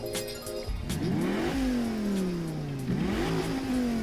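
A Dodge Viper V10 in Gran Turismo Sport revs hard, its engine note climbing through gears with a shift dip and a second rising pull, loud and steady with no talk.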